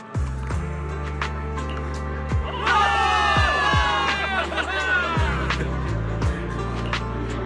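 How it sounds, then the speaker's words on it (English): A large crowd cheers and shouts in a loud sustained swell, with deep booming thuds and synthetic effects layered underneath, sounding like a game soundtrack. "Give it up for yourselves, soldiers! Cheer for victory!"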